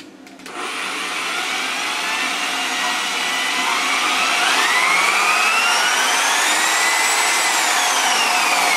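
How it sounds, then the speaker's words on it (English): A Snap-on variable speed car buffer polisher spins up from a click into a steady whine that climbs in pitch as the trigger is squeezed, loud and close, running alone with no talk. "Okay, now we got our snap-on. Keep an eye on my trigger here and listen to the noise,"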